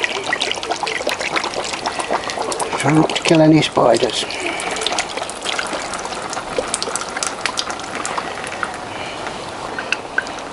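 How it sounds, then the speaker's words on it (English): Clean water is poured through a funnel into the radiator of a Triumph Tiger 955i motorcycle as a continuous gushing trickle over ten seconds. Someone talks briefly over it. "fill it back up with clean water"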